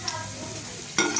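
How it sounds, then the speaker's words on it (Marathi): Potatoes are stir-fried in oil in a pan until golden for dhaba-style dum aloo. A short, quiet burst of sizzling and stirring is followed by a sharper scrape near the end. "अशाच प्रकारे हे सोनेरी होईपर्यंत परतवून घ्यायचे."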